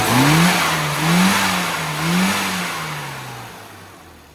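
A freshly tuned car engine on a test drive revs up and eases off in three rising-and-falling sweeps. It sounds close and loud, then fades as the last rev drops away, with no one speaking.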